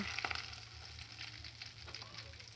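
Garam masala and bay leaves hit hot oil for a meat korma, giving a soft, steady sizzle with a few brief crackles, fairly quiet and close, with no talk.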